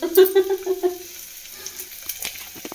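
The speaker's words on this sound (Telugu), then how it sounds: "ఉల్లిగడ్డలు వేస్తున్నా అని చెప్పిన ఆల్రెడీ" Sliced onions dropped into hot oil in a home kitchen for an egg fry, giving a quick, loud burst of sizzling that crackles at first and then settles into a quieter fry.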